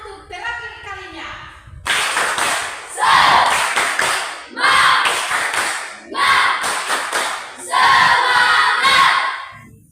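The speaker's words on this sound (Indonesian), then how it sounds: "tepuk semangat untuk terakhir kalinya" Group of schoolchildren at the end of a class session doing a rhythmic spirit clap chant: bursts of chanting voices alternate with sharp clusters of patterned claps, repeating in regular phrases, loud and close.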